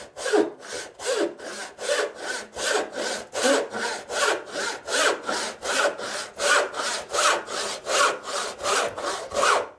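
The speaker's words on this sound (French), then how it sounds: "Je laisse glisser ma lame. Je ne la force pas." A hand saw cuts a half-lap notch in wood with steady, even back-and-forth strokes, about two per second, close and loud with no talk.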